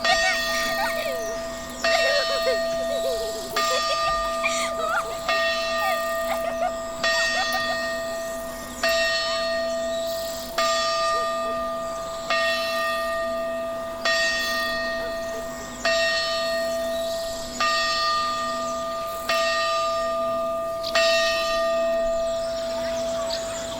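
A church bell tolls steadily at a slow, even pace, about a dozen ringing strikes whose long tones overlap and decay over a constant background hum.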